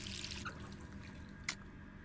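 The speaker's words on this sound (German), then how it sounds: "So, dann drehen wir den Hahn zu." A water tap being turned off in a video game, with a faint, close trickle and light drips of water and one brief sharper splash or squeak near the end, no talking.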